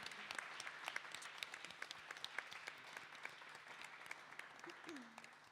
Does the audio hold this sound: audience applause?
yes